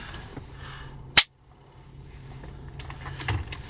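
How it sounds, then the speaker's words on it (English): A single sharp sync clap rings out inside a car waiting at a red light, loud and close, over quiet cabin rumble and faint traffic. "Sync clap."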